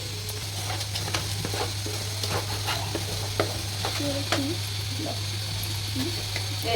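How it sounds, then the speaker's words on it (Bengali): Spice paste is stir-fried dry in a pan with no water added, giving a steady sizzle with scraping stir strokes over a constant low hum, and a voice speaking in the background. "মশলাটা কোনো জল দিব না খালি কষাবো"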